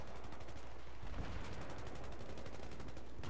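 Rapid automatic gunfire in Battlefield 3 during a team deathmatch, a dense, fast rattle of shots sustained close up for several seconds with a heavier burst partway through.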